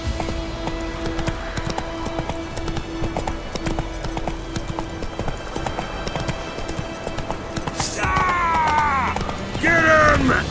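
Hooves of the horse Roach clip-clop in a fast, steady gallop through The Witcher 3: Wild Hunt, with game ambience and a few sharp chiming effects breaking in near the end.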